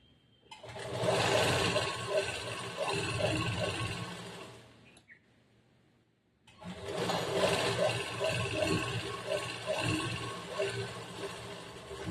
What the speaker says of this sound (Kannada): ಈಗ ಆಲ್ರೆಡಿ ಹಾಕಿರೋ ಸ್ಟಿಚ್ ಮೇಲಿನ ಇನ್ನೊಂದು ಸ್ಟಿಚ್ ಹಾಕ್ಬೇಕು